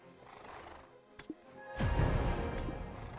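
A horse in the video game Black Desert gives a couple of hoof thuds, then a loud, drawn-out whinny with a trailing breathy snort, close up and without talk.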